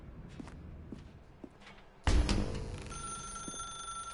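A telephone rings in the video game The Stanley Parable: a loud, bright, sustained ring bursts in halfway through after a few soft thuds, then holds steady to the end.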